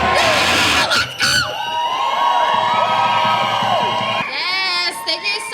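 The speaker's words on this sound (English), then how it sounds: "Another round of applause" A rally crowd at an anti-Trump protest in Tacoma cheers, whoops and yells loudly and continuously, with shouting voices and a brief dip midway before the cheering surges again.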